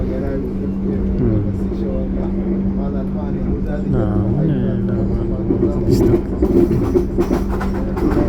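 A train rumbles steadily through a tunnel with a low droning hum and rhythmic rattling of the cars, while people talk over it throughout and clatter grows near the end.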